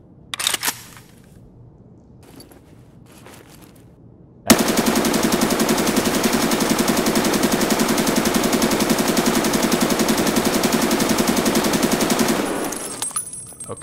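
Automatic rifle fire in Escape from Tarkov, heard as a single long, rapid, evenly paced burst of loud shots lasting about eight seconds, preceded by a few quiet clicks and handling noises.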